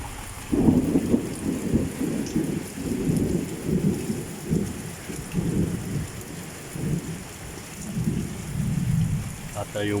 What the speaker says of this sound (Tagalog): Kumukulog, kumikidlat.